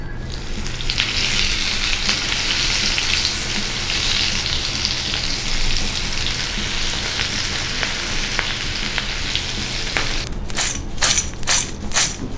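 Flour-coated okra deep frying in hot oil, a steady loud sizzle and crackle throughout, with a few scraping stirs near the end.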